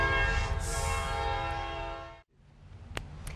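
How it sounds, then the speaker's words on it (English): A train rumbles past with a long, loud, sustained horn blast, then the sound drops off abruptly and leaves faint lingering rail noise and a few clanks. "Oh my gosh, there's a train coming."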